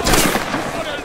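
A musket volley goes off at a Waterloo battle reenactment with a Spanish army regiment: one loud, sharp, broadband blast at the start that rolls away into a short echoing tail.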